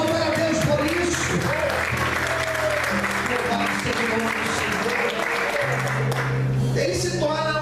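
A church congregation applauds in a continuous, full round of clapping, with voices and other sounds mixed into the din.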